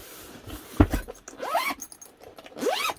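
Zips on a large canvas power tool bag with foam-padded pockets are pulled open in quick, close, rasping strokes: one sharp tug followed by two longer sliding zips.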